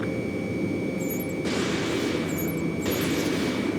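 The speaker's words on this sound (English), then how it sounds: "Their artillery fire just missed us off our starboard side." Artillery and gunfire in the Ace Combat 7 flight combat game: a dense, steady wash of rumbling explosions with bursts of brighter noise, set against a continuous high electronic tone and faint beeping.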